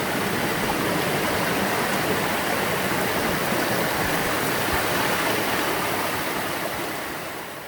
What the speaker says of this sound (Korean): 맨 위에 있는 이끼폭포 구폭입니다.